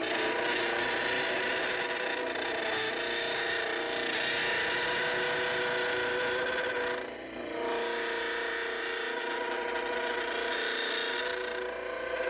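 A dental plaster study model ground on a model trimmer wheel, its heels being shaped after the arch; a steady, loud abrasive grinding hum runs continuously with a brief dip midway, no voices.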